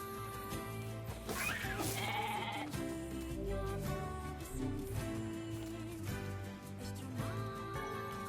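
Sheep bleating in the video game Nier Replicant, several wavering bleats rising over a loud, continuous game music soundtrack with no talk.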